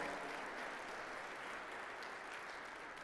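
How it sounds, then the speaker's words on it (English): An audience at a comedy show breaks into steady, sustained applause, a dense wash of clapping that holds level throughout without any voices on top. "y'all please give my wife a round of applause"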